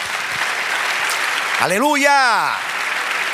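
A church congregation applauding, a dense sustained wash of clapping while a voice rises over it calling out a praise word.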